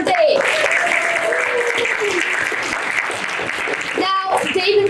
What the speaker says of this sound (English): Let's give a big round of applause for Dave.